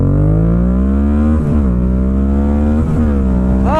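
A motorcycle engine drones loudly up close, its pitch climbing and dropping as the rider shifts gears, with a sharp rev rising at the end.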